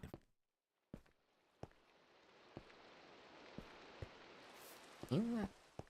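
Light rain pattering in Minecraft, a soft steady hiss of drops with a few sharp isolated taps and a brief burst of other game sound near the end, faint and distant throughout.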